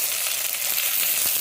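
Tomato goes into a spice mix frying in hot oil, giving a steady, close, loud sizzle that holds evenly throughout with no talking.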